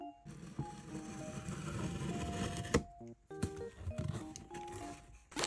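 Rustling and crinkling of a mailed package of books and merchandise being torn open at a desk, with crackly tearing bursts, a sharp snap near the middle and scattered handling noises, fairly close and no talking.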